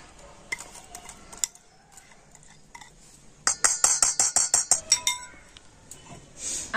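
A metal spoon clinks against a bowl as an oil and sugar mixture is stirred into soaked semolina for an eggless cake. Taps come first, then a fast, steady run of bright, close clinks.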